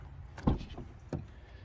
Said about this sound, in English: we'll see if we can open the door here